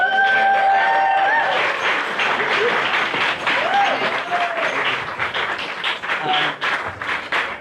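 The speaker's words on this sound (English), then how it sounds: "first round of applause please for Fiona." An audience at a gallery opening night claps and cheers in a dense, sustained round of applause that slowly thins out, with voices calling over it.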